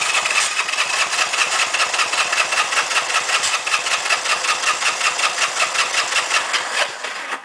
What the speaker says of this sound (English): we're going to give it a crank and see where the compression goes